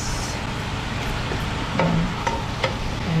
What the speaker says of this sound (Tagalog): Tapos haluan ko na pakulit-kulitin ko para mawala yung kanyang pagkamalangsa.